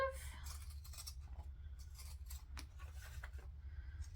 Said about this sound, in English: Zigzag scissors again